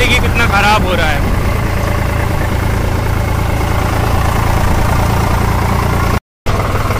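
A John Deere 5050 D 4WD tractor engine idles and chugs continuously on a road, steady and low, with a brief burst of voice-like squeal near the start.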